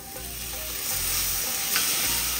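Onions and tomatoes fry with turmeric in a pan for kadala curry, a close, continuous sizzle with a faint scrape of stirring, no voices.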